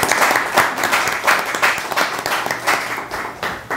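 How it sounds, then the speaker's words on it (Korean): Applause from an audience at a Korean community federation event, dense steady clapping filling the whole stretch at close range with no one speaking over it. "박수 부탁드립니다."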